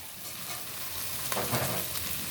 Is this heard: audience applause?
no